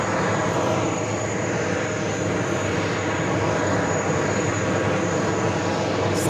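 A JetBlue Airbus A320 jet airliner in the updated Jets livery at New York's JFK airport gives a loud, continuous engine roar. It holds steady throughout with no talk.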